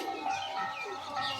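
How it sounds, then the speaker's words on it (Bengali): Soft cooing from a pigeon kept for sale, probably a male high-flyer, a faint low murmuring call heard alone with quiet background noise. "খুব সুন্দর পায়রাটা"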